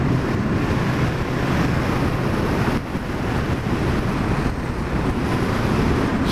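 Strong wind blows steadily on a windy night outdoors beside a new motorbike, a continuous loud broadband roar buffeting the microphone with brief lulls and no voices.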